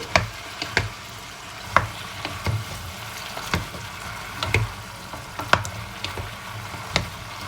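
Vegetables including celery are stir-fried in a pan, a soft background sizzle broken by regular spatula scrapes and knocks every second or so, close and fairly quiet.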